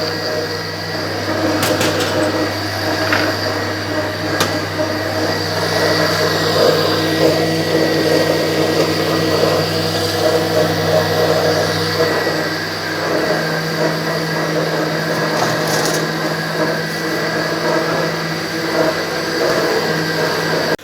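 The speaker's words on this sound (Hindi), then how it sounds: "अब इसको दोबारा हम ब्लेंड करते हैं जी" A countertop blender runs steadily at high speed, whirring through grape juice mixed with black salt, a continuous loud motor drone with no pauses throughout.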